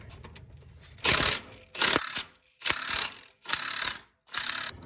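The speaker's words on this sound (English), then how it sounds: "Now I'm just gonna go ahead and tighten down these nuts in the strut tower here." A ratchet wrench cranks down the strut tower nuts on a Chevy Impala during a coilover install, sounding in five loud bursts of rapid clicking separated by short silent pauses.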